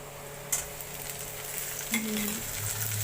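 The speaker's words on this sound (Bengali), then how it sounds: "এবার আমি এর মধ্যে মিশিয়ে দেবো কেটে রাখা টমেটো কুচিগুলো" Chopped tomatoes go into frying onions and are stirred, giving a quiet steady sizzle with occasional scrapes and clinks of a spoon against the pan.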